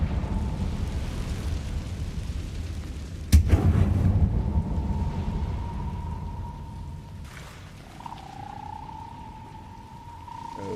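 A Confringo fire spell blast goes off in Hogwarts Legacy, a sudden loud burst followed by a crackling rumble and a sustained tone, with the game's background ambience continuing under it.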